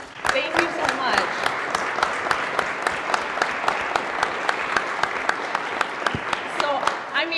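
A seated audience at a history center panel bursts into sustained applause for a 10-year-old Girl Scout runner, dense clapping close and loud with brief voices at the edges.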